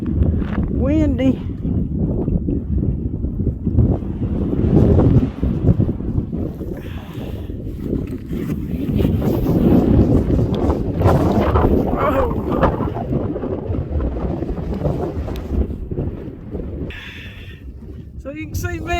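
Strong wind gusts roaring and buffeting the microphone on a mountain trail near Max Patch Road, loud and continuous throughout, with a person talking intermittently underneath.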